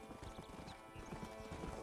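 Horse hooves clip-clopping at a steady riding pace in the Western video game Red Dead Redemption, close and fairly loud over a light ambient bed, with a brief whinny.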